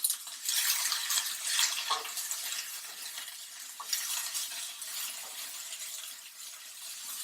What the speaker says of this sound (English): So you'll hear it sizzling.